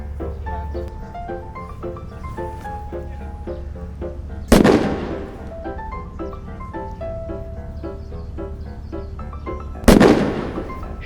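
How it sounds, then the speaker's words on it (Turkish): Two loud, sharp booming blasts, about five seconds apart, burst over continuous layered music, each one decaying with a rumbling tail. "Büyük patlama, Big Bang."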